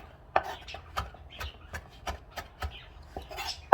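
A knife chops fresh cilantro on a cutting board in a quick irregular series of sharp taps, close and clear, with no talking.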